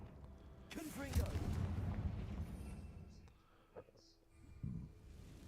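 A Confringo fire spell in Hogwarts Legacy bursts as a deep rumbling blast that swells and rolls off over a couple of seconds, followed by smaller thuds, with a person talking over it.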